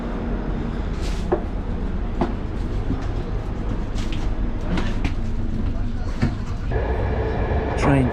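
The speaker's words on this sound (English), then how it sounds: "Train took a while to get going." Gölü Ekspresi passenger train from Ankara getting under way, a steady low rumble of rolling cars with occasional clanks and knocks, heard from inside with people talking.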